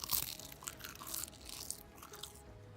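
Someone bites and chews crunchy seaweed chips close to the microphone, giving a few crisp, crackly crunches that fade into softer chewing.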